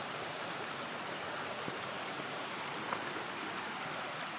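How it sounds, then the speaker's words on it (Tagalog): Steady rain falls during an outdoor fishing trip, a continuous broadband hiss of drops with no break, fairly faint and alone with no talking. "Umuulan na."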